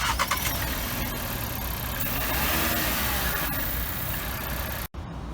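Volkswagen T-Cross 1.4 turbo engine running at idle under an acoustic hood blanket, a steady close mechanical hum and rumble with no talk, briefly cut off near the end.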